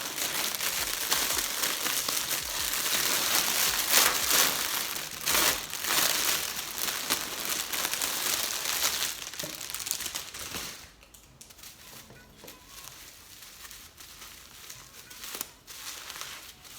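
Packaging being unwrapped during an unboxing of a plant item, with paper and plastic crinkling and rustling steadily up close for about ten seconds, then dropping to quieter scattered handling sounds.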